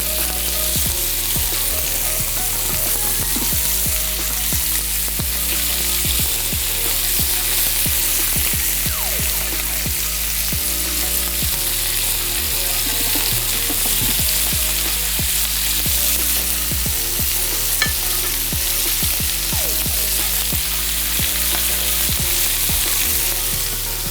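Lamb chops grilling over high heat, a steady loud sizzle and crackle that holds continuously without pause.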